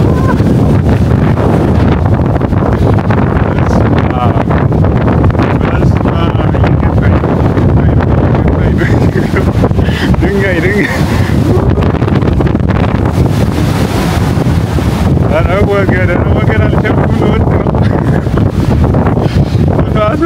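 Strong gusting wind roars continuously into the microphone high atop the tower of the 500-year-old St. Nicholas Cathedral in Fribourg, Switzerland, loud and buffeting throughout, with a voice faintly audible underneath.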